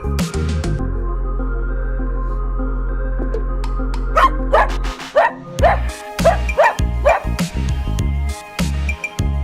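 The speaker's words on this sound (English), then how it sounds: "Dog, this is dog." A dog barking in short yipping bursts, several quick barks and whimpers in a row, following a low steady droning tone, close and loud.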